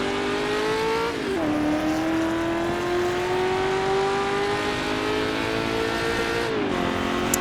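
A blue McLaren sports racing car at the 1966 Goodwood Tourist Trophy, a British Sportscar Championship round, holds a loud, steady engine note that dips and climbs with shifts at a couple of points.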